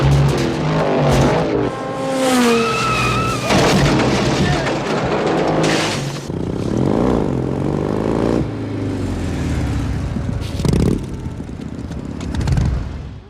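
A car race scene from the movie Black Rain, with loud revving engines, whooshing passes and booming impacts layered with music and film sound effects, continuous and dense throughout.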